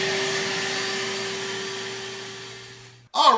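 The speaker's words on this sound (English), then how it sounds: "So now I'm just blowing everything" Nasum 40V cordless leaf blower with a 4 amp-hour battery running steadily as it blows out debris, a loud, sustained whine with a constant hum that fades slightly before cutting off abruptly near the end.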